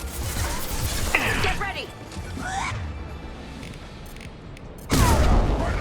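Mass Effect 2 combat erupts with bursts of gunfire and sharp impacts, a heavy blast near the end, while a voice speaks briefly over the clatter.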